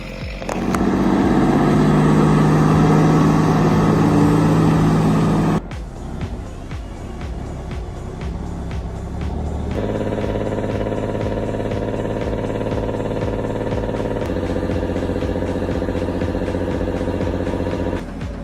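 A 1958 Kenworth logging truck with a Cummins 220 engine runs with a loud, steady diesel drone. Its tone and pitch shift twice, at about five and ten seconds, as the engine keeps going with no talking.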